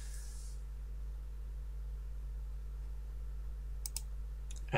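A computer mouse clicks a few times near the end, sharp and close, over a steady low electrical hum in a quiet room.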